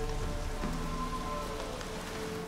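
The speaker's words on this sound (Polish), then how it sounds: "Widzicie to? Zanosi się na deszcz." Steady rain pattering on surfaces in the video game The Witcher 3: Wild Hunt, a dense even hiss with a faint low rumble underneath and no voices.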